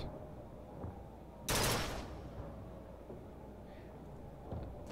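A sniper-like rifle in the video game Bioshock Infinite fires one loud, sharp shot, with a short decaying tail over faint game ambience and a softer thump near the end.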